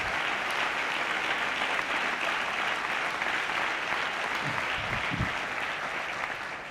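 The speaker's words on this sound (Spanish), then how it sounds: "Un aplauso para ellos." Audience applause at a Socialist political rally in Avilés, steady and moderately loud clapping from a crowd, continuous throughout with a slight fade at the end.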